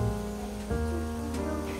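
Steady rain patter on the way to Kamakura, Japan, with a continuous wash of drops, layered over low tonal hum and background sounds throughout.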